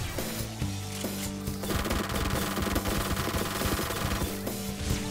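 Sustained automatic AK rifle fire in the 7 Days To Die video game, a dense rapid stream of loud shots running for several seconds with a brief gap, no talking.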